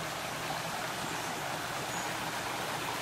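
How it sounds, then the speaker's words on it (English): Tails Creek in the north Georgia woods rushes steadily close by, a constant broad wash of flowing water with no break, heard alone without voices. "Here is that noisy Tails Creek."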